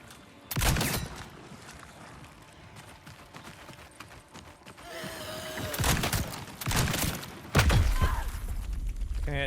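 Gunfire in the video game Hunger: several sharp broadband bursts, loud and close, arrive at uneven intervals, with a denser crackling volley near the end.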